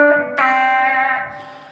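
Slide guitar notes sustain through a slapback echo effect in a small-room, Sun Studio–style reverb, a mellow, bright gliding tone heard alone and close.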